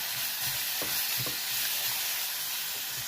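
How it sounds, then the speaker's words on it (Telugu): Chopped tomatoes are stirred into masala frying in a pan. A constant sizzle runs throughout, with a few soft scraping strokes from the stirring and no voices. "ఇప్పుడు కట్ చేసిన టమాటాలు ఇవి కూడా వేసుకొని కలుపుకోవాలి."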